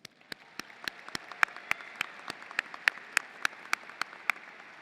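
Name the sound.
graduation audience applause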